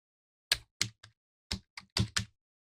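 Typing on a computer keyboard, with seven crisp, close key taps coming in an uneven rhythm and quiet gaps between them, heard alone with no voices.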